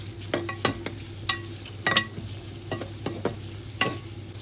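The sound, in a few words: chicken and onions frying and being stirred in a pot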